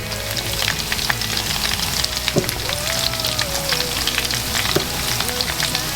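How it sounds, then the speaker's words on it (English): Steady, crackling sizzle of battered pork frying in a pan, with dense spitting pops throughout and a couple of sharper clinks. "we're just adding these to the frying pan"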